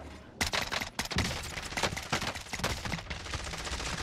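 SKS rifle fire in Call of Duty Warzone crackles in a dense, loud run of rapid shots, with other gunfire mixed in throughout the stretch.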